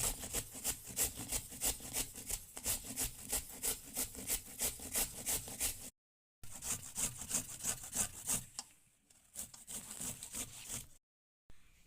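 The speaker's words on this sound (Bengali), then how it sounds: "কচুটা আমি এইভাবে গ্রেট করে নেব" Taro (mankochu) is rubbed against a grater in quick, regular scraping strokes, one after another, close and crisp, broken by two short pauses.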